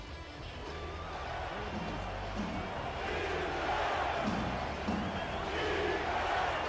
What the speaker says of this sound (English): Crowd getting loud here at the Eye